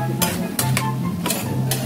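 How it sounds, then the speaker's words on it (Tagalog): Chayote stirred with chicken in a pan for a sautéed cabbage and chayote dish, a few rhythmic scraping strokes of a spoon over soft sizzling, close and alone. "Ngayon, ilagay na natin yung ating sayote."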